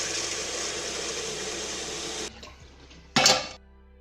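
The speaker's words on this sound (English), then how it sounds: "I'm starting with putting a little bit water to the saucepan" Water pours into a saucepan in a steady, close rushing stream for about two seconds, then stops; after a short quiet pause a single sharp metallic clank of the pan rings out.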